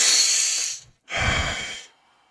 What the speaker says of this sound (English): You guys want to do a couple deep breaths with me real quick?